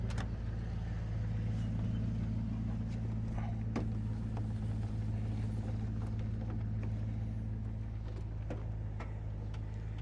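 Old pickup truck idling with a steady low engine rumble while its wheels are turned using a newly fitted power steering pump, with faint clicks and creaks over the drone.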